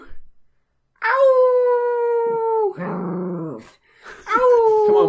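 A pet dog howls in long, drawn-out wails, loud and close: one sustained howl, a rougher lower moan, then another rising howl after a short pause.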